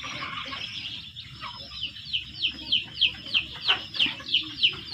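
KUB chickens clucking inside a poultry house, a run of short rhythmic clucks growing steadily louder and closer toward the end over a low, steady background hum.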